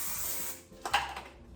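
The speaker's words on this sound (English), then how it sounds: "I'm also just gonna spray it too" Nonstick cooking spray hisses from a can onto a parchment-lined baking sheet, a short soft spray burst followed by a few faint clicks of the nozzle.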